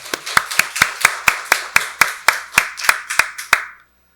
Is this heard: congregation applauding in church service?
yes